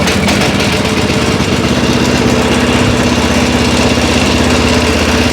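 A hybrid walk-behind tractor engine running loud and close in a steady, throbbing idle with a continuous mechanical hum, alone without talk.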